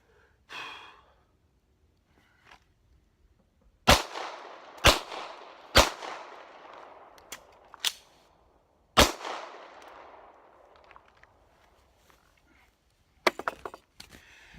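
Handgun shots fired in a four-corners drill with a two-handed grip: about six sharp, loud reports at irregular intervals, each with a short echoing decay, and a quick pair near the end.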